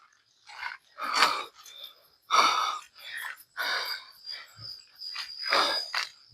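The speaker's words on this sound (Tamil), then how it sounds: "நான் மூச்சு விடுற மாதிரி யாரோ மூச்சு விட்டாங்க." Heavy, ragged breathing rises and falls in about eight separate breaths, each a rough gasping rush of air. It sounds close and fairly loud in a quiet night forest near a temple, with no talking.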